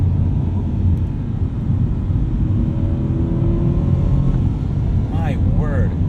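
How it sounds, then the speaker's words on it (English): A 2020 Chevrolet Corvette Stingray accelerates, heard from inside the car as a steady low engine rumble and road roar, with a rising engine tone and a brief voice near the end. "But the acceleration is so good."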